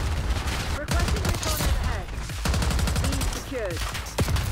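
GPR 91 rifle firing in the Black Ops 6 shooter game, rapid bursts of sharp close shots in quick rhythmic volleys, with someone talking over them.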